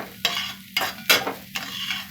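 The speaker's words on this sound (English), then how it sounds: "And you don't want to burn any of these spices. Just a light saute." Spices lightly sautéing in olive oil for stewed peas, a close, steady sizzle punctuated by four scraping stirs of a utensil through the pan.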